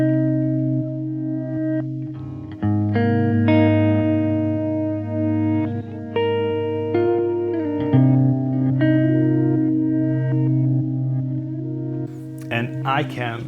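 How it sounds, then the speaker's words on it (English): Guitar played through a Strymon DD500 stereo reverse delay that pans left to right, giving sustained chords with swelling reversed repeats and a washy ambient tail, loud and continuous with no talking. "but that one is a stereo reverse delay which moves from left to right constantly"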